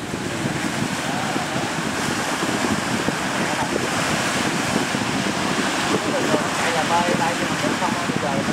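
A fishing boat heading out to sea in strong wind and big waves, with a steady roar of wind and rushing water throughout, loud and close, with the hull rocking in the swell.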